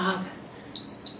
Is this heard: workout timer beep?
yes